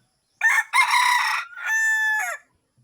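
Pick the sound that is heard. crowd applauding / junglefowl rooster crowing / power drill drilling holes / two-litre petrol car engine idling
junglefowl rooster crowing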